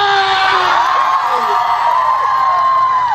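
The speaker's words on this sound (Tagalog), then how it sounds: "A round of applause" A loud crowd whoops and cheers with rising and falling yells, a dense roar of voices close by and continuous throughout.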